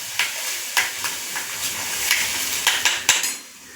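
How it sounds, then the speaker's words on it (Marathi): A spoon scrapes and clinks against a pot as paneer rajma masala, with coriander-cumin powder and fresh coriander, is stirred while frying in oil. Sharp metallic taps recur every half second or so over a soft sizzle. "आणि तेल सुटेपर्यंत एक 2 ते 3 मिनटं सतत हलवत राहायचं।"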